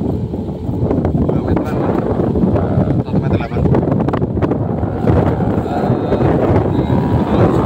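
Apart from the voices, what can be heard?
strong wind blowing during a kite flight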